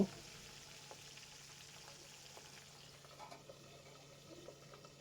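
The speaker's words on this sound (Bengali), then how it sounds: "এর জন্য আমি মাছগুলোকে ঢাকনা আটকে ভেজে নেব" Pabda fish frying in oil under a lid make a faint, muffled, continuous sizzle with a few soft pops and crackles.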